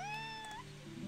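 A cat in the video game Whispers in the West gives one clear, drawn-out meow with a rising end, heard close and alone.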